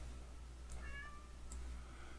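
A cat meows twice in Star Wars: The Old Republic, two short clear calls about a second apart over a steady low hum, with no talk.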